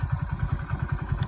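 Motorcycle on a road, a close, loud engine thumping in a fast regular pulse throughout the brief moment, without speech.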